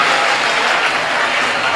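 Audience applause at an Islamic lecture, a dense, steady wash of many hands clapping together, loud and close, with no speech over it.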